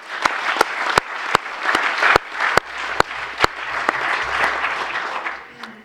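Audience applause at a council meeting: a crowd claps steadily while several sharp, regularly spaced loud claps stand out near the microphone, and soft murmuring sits underneath.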